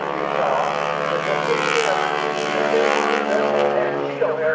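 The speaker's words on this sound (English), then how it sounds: "It is the North American for Advanced Trainer 6." A North American AT-6 Advanced Trainer propeller plane at an airshow gives a loud, steady engine drone with a rich harmonic buzz that holds throughout.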